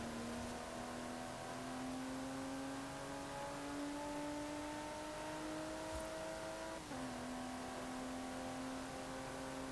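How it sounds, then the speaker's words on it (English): A Range Rover Velar engine in the Forza Horizon 4 racing game holds a steady, droning rev that climbs slowly, then dips briefly near the end before settling again, loud and continuous with no talking. "the engine sounds better as well, so I'll just let you listen to that for a little bit"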